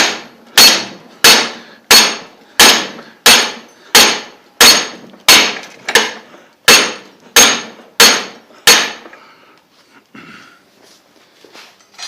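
Hot steel being forged into a square corner, struck about a dozen times in an even loud ringing rhythm, then quiet handling noises.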